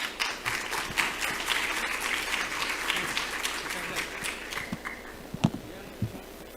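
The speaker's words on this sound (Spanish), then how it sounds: "Lo recibimos con un fuerte aplauso," Audience applause at a small-business expo as a speaker is welcomed, steady clapping from a crowd lasting several seconds, with a few louder individual claps near the end and faint voices underneath.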